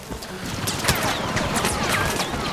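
Rapid blaster fire and explosions in Star Wars Battlefront, a dense continuous volley of loud shots and crashes from a busy online match.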